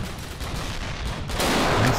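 Gunfire in the online shooter Dino D-Day, a steady stream of mid-distance shots that swells louder and denser toward the end, with no voices over it.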